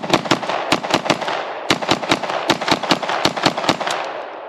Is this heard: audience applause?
no